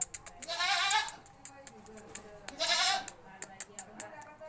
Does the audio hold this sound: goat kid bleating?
yes